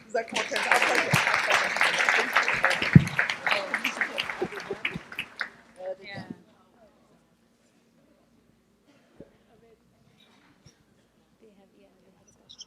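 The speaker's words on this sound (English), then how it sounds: "Let's just give another warm round of applause to our beloved speakers." Audience applause for speakers at a banquet, a dense wash of many hands clapping that fades out after about six seconds, followed by near silence with a few faint small sounds.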